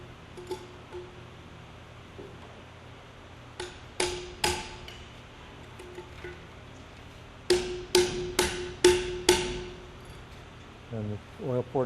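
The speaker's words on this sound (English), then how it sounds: "which will be tightened with the spanner wrench" A spanner wrench tightens the outer lock nut on a 15-gallon accumulator assembly, producing sharp metallic knocks and clinks in scattered bursts. Several come in quick succession near the end. Faint background noise runs throughout.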